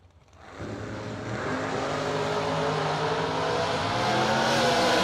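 A 1968 Camaro launches down a drag strip, its engine roar rising sharply, then holding a loud, steady, building drone as the car accelerates away, with no voices.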